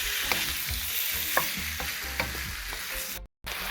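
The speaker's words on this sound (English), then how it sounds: "the shrimp start to change color around 2 to 3 minutes, and my stove is on medium heat at the moment" Shrimp fry in a pan on medium heat with a steady, close sizzle, broken by a few soft stirring knocks and a brief gap near the end; no voices.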